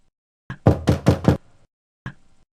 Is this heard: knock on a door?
yes